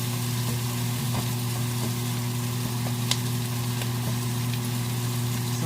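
Ginger and garlic fry in a pan with a constant crackling sizzle, loud and steady throughout, dotted with small pops and a low hum underneath.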